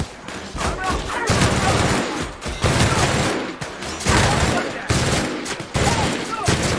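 Rapid bursts of automatic gunfire from the player's weapon in the video game The Outer Worlds, loud and close, coming in several sustained volleys separated by brief pauses.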